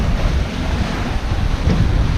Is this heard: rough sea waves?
yes